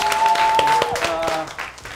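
A studio audience applauds at a Ukrainian comedy quiz show on school math exams. Dense clapping runs alongside a held musical tone and fades toward the end.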